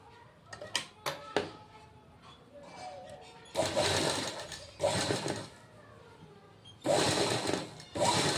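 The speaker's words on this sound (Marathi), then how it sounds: "दोन्हीला अर्ध्या इंचावर शिलाई अगदी सावकाशपणे करून घ्यायची" Sewing machine stitching a blouse seam, a few short clattering taps early on, then three bursts of fast rhythmic stitching separated by quiet pauses, close and fairly loud.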